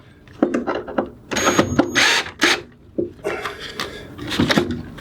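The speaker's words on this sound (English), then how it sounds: "So my idea here is to make the strapping tight by screwing it down so that this won't move." Strapping being screwed down on a sailboat: irregular bursts of clicks, knocks and short whirring driver runs with clattering handling noises, fairly close and loud, with no speech.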